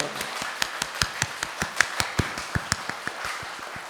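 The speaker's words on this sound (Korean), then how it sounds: "좋으신 하나님께 우리 감사의 박수를 올려드립니다" A congregation applauding in thanks at an early-morning church worship service: quiet, crisp claps in a steady, evenly spaced rhythm, about five per second, over a soft room background for four seconds.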